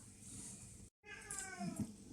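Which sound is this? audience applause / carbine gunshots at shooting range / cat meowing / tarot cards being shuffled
cat meowing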